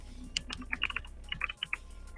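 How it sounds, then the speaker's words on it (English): Quick keystrokes on a computer keyboard while entering a search term into a photo program, a close, clicky patter of irregular taps with no voices. "all I have to do is go to the search bar here and start typing in the tag"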